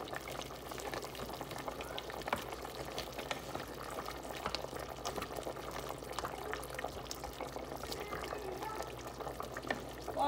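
Fish sauce for a ragout made without tomato paste bubbles steadily in a pot, a dense continuous boil with crackling pops throughout, close and even in level, with no talk over it.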